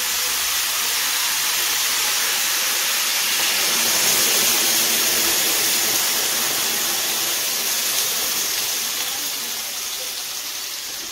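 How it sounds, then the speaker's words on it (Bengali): Water pours steadily into a pot of spiced chicken stew, a loud continuous hissing rush lasting several seconds and easing slightly toward the end. "এবার আমি এর মধ্যে জল দিয়ে দেবো"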